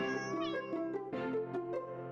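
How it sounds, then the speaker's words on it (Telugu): A cat meows repeatedly in short, close, fairly loud calls that rise and fall in pitch, with no talk. "Meow meow. పిల్లుల కోసం భోజనం."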